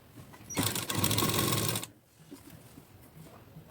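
A sewing machine runs in a single loud continuous burst of about a second and a half, stitching a blouse, then stops, leaving quiet room tone.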